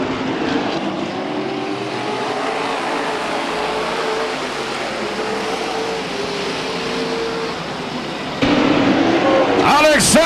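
Race cars at Stockton 99 Speedway roar in a steady, loud engine drone through the whole stretch, with a sharp swell near the end.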